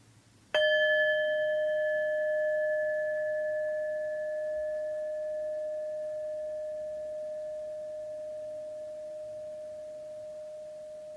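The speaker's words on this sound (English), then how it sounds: "I'm going to go ahead and ring the bell to have us begin." A single meditation bell is struck once to open a session, giving a clear, pure ring that sustains and slowly fades over about ten seconds with nothing else heard.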